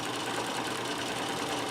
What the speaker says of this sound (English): When you get there, then you just let it go and sew down the right hand side.